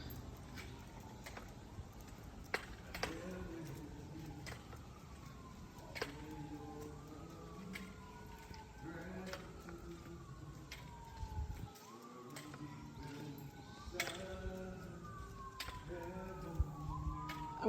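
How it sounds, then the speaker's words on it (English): Emergency vehicle sirens wailing on the road near the James River Bridge, repeated rising and falling sweeps heard at moderate distance over steady traffic and car noise, without talk. "I wonder if those sirens are for whatever that big crash was a few minutes ago"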